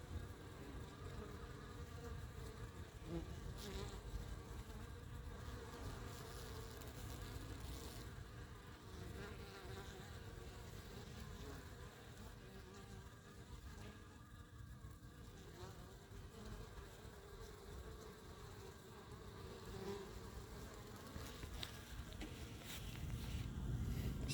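Honeybees at a hive in an apiary buzz in a steady, dense drone while fighting off an attacking hornet, a close continuous hum swelling slightly toward the end, with no talk.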